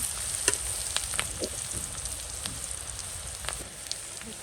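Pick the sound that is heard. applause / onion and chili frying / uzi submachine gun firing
onion and chili frying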